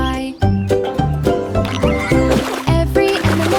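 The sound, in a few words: horse neighing in a nursery rhyme song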